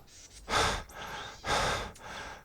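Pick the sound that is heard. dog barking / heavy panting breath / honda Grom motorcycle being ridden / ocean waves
heavy panting breath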